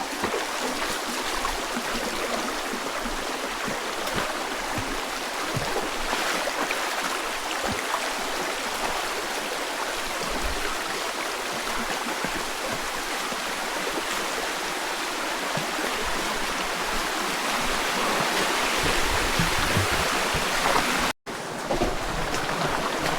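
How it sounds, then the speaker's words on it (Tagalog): The large Ipo River flows continuously, a steady loud rush of water with a constant broadband wash, heard up close along a bike camping and hiking route, with no voices. "Yung malaking ilog na to."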